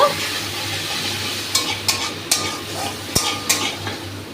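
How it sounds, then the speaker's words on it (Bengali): Ground dried red chilli paste with mustard and poppy seed sizzles steadily in hot oil for a fish curry, with several sharp stirring scrapes and clinks of a utensil against the pan. "2টো শুকনো লঙ্কা বেটে রেখেছিলাম, সেটা তেলের উপর দিয়ে দেব।"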